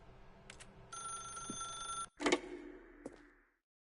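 A telephone rings in the video game The Stanley Parable: several bursts of bright, steady ringing tones, the longest about a second, then a louder clatter. The sound ends in silence.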